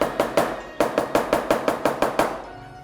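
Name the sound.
Chinese cleaver crushing food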